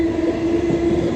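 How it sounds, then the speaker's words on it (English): Interior rumble of a moving train carriage that rides wiggly and bouncy, a steady low roar with a constant hum running through it, heard up close with no one speaking. "the train is all wiggly and bouncy"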